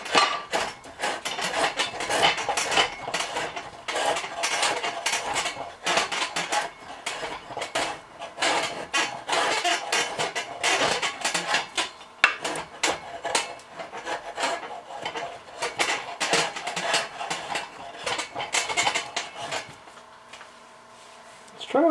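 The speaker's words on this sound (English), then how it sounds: "I've never used a draw knife on maple before." A draw knife shaves maple held in a vise, with continuous rasping, scraping strokes that rise and fall in quick succession, close and fairly loud, easing off briefly near the end.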